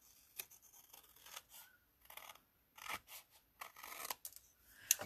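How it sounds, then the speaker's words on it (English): Scissors snipping through paper in a series of irregular, close, quiet cuts with brief pauses between bursts. "I'm going to take my big scissors and just trim that down."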